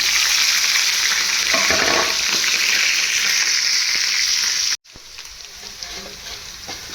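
Onions and slit green chillies fry in a pan with a loud, steady sizzle and faint stirring scrapes, cut off by a brief dropout near the end before the quieter frying hiss returns.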